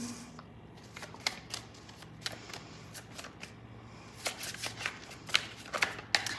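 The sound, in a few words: tarot cards being shuffled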